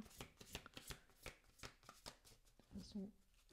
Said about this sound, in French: Je mélange bien les cartes.